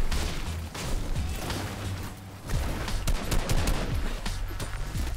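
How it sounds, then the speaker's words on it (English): Automatic gunfire in Fortnite Save the World, continuous rattling bursts of shots over steady game ambience and a low droning tone, moderately loud throughout. "Stop shooting at me."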